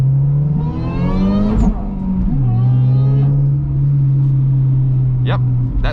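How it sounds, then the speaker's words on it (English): Toyota Altezza engine fitted with a Blitz supercharger, heard from inside as a loud steady drone that swells and rises in pitch during brief revs, with supercharger whine layered over the engine note. "Yep, that's the supercharger."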